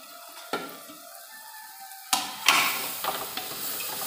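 Soybean chunks sizzle with spices in a pan, a steady frying hiss broken by sharp stirring clatters and scrapes that grow busier after the first couple of seconds, no voices.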